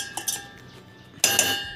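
A metal lid clinks onto a cooking pot holding cardamom-flavoured sugar syrup in a home kitchen: a few light taps, a pause, then a louder ringing clatter as it settles, close by.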